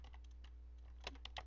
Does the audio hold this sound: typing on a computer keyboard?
yes